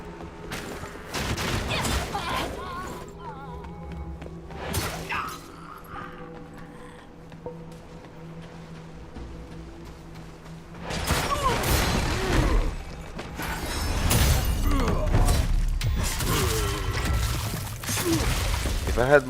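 Fire bombs explode and shatter in the video game Wuchang: Fallen Feathers. Several loud, sharp bursts arrive in clusters, with quieter stretches between them and a longer, heavy run of blasts near the end; a voice talks in places.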